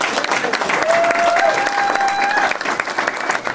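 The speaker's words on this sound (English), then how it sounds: "please give a big, huge round of applause to Ron Young" A crowd at an Ohio political rally breaks into loud, sustained applause for candidate Ron Young, with a faint whistle or cheer rising briefly over the clapping.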